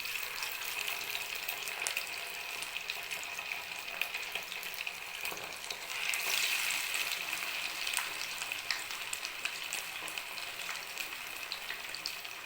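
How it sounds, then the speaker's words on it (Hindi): Fish frying in mustard oil in a kadai gives a steady, even sizzle that runs throughout, a little louder near the middle, with no talking. "मैं इसमें सरसों का तेल डाल के फ्राई करती हूँ।"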